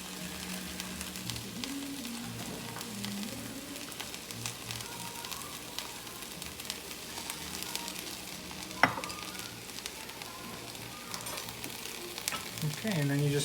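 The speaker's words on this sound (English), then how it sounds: "then you just stir it in" Lentils stirred and mashed in a hot pan with hot sauce, a steady close sizzle and frying crackle with soft scraping throughout and a sharp knock near the end.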